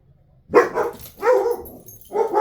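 Dogs bark indoors at people passing outside, three loud close barks spaced about a second apart with quiet gaps between them.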